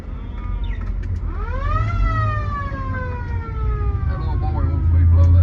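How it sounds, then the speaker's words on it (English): Squad car siren in Mayberry, Mount Airy, North Carolina, sounding a single rising-then-falling wail close by over a rumbling engine and traffic, with a voice talking nearby. "That little boy wants me to blow that siren every time he sees me."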